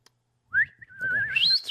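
A man whistles a bright melody resembling the Andy Griffith theme song, a short rising and wavering phrase up close with faint background murmur beneath.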